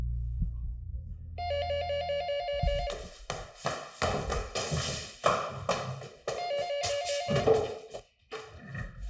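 A telephone rings in repeated electronic bursts, loud and close, after a low thud at the start, with scattered knocks and background noise between the rings and no talking.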